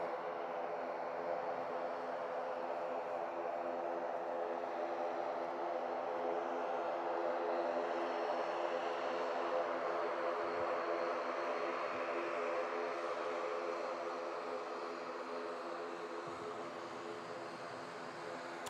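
An aircraft approaches Manchester Airport with a steady, broad engine roar and some tonal hum. It holds fairly constant and moderately loud for the whole stretch, with no voices.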